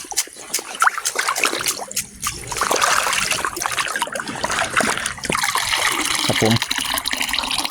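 Water poured out and splashing in uneven trickles and spatters, close and fairly loud, with people talking over parts of it.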